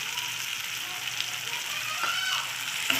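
Spices and oil sauté in a pan with salt, turmeric and red chilli powder, a steady loud sizzle that runs the whole time with occasional faint stirring.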